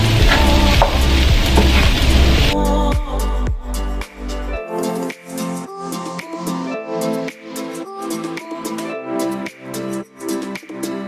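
Onions sizzling in a pan while being stirred, a loud mix of frying hiss with clattering utensil scrapes and knocks in an irregular rhythm, with music-like tones at the start.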